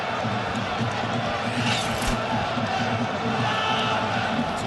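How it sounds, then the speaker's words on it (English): A boxing arena crowd roaring during a heavyweight bout, a dense sustained wall of cheering and babble that stays loud and steady throughout, with nothing standing out above it. "the crowd once again roars for that"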